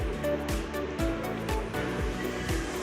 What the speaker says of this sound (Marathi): आता चाळणीमध्ये काढून घेते मी